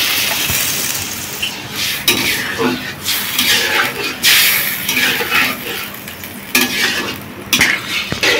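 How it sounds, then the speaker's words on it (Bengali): Potatoes being sautéed in a pan for a village-style soybean curry, with sizzling and repeated scraping stir strokes, several sharp utensil knocks against the pan, and some background voices. "তো আমার আলু ভালো মতো কষিয়ে নিচ্ছি"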